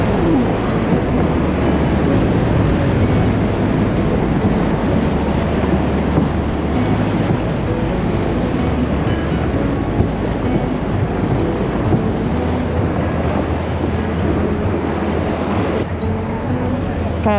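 Loud, continuous rushing water and wind on a paddle ride while riding a wave, a dense steady roar that stays close throughout.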